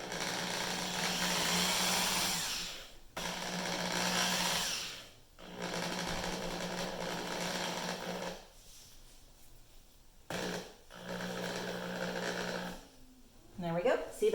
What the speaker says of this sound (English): just going to drill my pilot holes in those holes that I just drew where the screw holes are